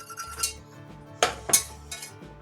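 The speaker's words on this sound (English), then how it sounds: "Sorry for all the clanging of metal on metal there" A metal utensil clangs and scrapes against a metal pan while flour cooks for macaroni and cheese, several sharp irregular clinks and knocks close by with quiet pauses between them.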